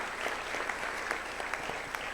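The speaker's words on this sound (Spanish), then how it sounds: "Démosles un aplauso a estas organizaciones civiles." Audience applause at a civic forum, a steady wash of clapping hands throughout, moderately loud and unbroken, with no voices over it.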